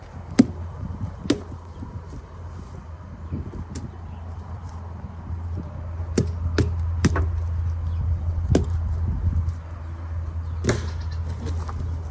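A Little Evil Fighter knife striking a pumpkin in sharp, scattered chops, separated by pauses and set against a low steady hum outdoors, with goats nearby.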